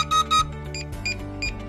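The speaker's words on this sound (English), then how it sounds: "The linking process will start when the remote controller beeps." A short series of electronic beeps from a DJI Mavic Air 2 drone remote controller during linking, a few bright tones in quick succession over a low hum.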